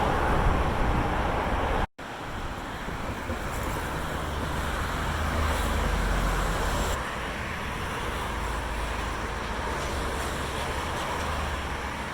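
Steady road traffic roars across Gladesville Bridge, a continuous broadband wash of passing vehicles heard from the footpath. One brief dropout interrupts it early on, and no one speaks.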